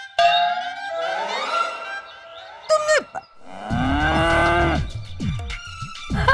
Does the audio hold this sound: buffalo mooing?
yes